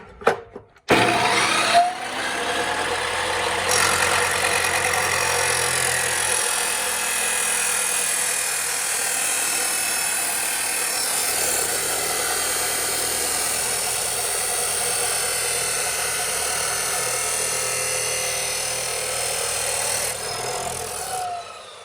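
A Harbor Freight 14-inch chop saw cuts through metal with a loud, steady, grinding whine. It spins up sharply and runs continuously for nearly twenty seconds before winding down.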